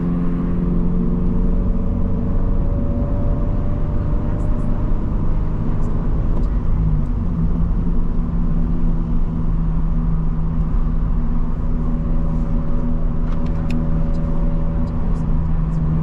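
A loud Subaru BRZ engine under way, heard from inside the car: a steady low droning rumble with sustained tonal hum, shifting pitch slightly as speed changes, continuous and close with no talking.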